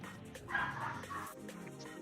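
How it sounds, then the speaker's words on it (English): Small miniature pinscher dogs yap in quick, high-pitched bursts at close range, the yips running together over a low background hum for about two seconds. "those yappy dogs ain't even my dogs. My mother-in-law's little min pins."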